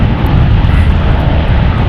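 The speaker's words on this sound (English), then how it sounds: "Alaska Airlines, and honoring those who serve livery, Flight 592 going to Cancun. It's a Boeing 737-800" An Alaska Airlines Boeing 737-800 jet in a special livery thunders loudly and steadily near an airport runway, a brief continuous roar with no voices.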